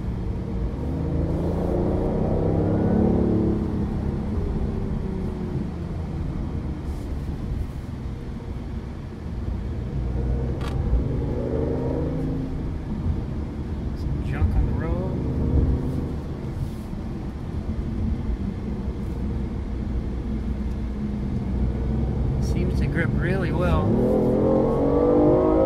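A BMW i8 sports car driving in sport mode, its engine rumbling and revving steadily throughout with surges through gear shifts, heard alongside ongoing talk.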